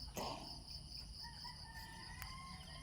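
A rooster crows once at a distance, with faint chirping insects and a steady hum in the background.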